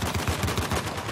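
Rapid bursts of gunfire in Uncharted: The Lost Legacy, a dense, loud volley of repeated shots in quick rhythm filling the whole moment with no talking over it.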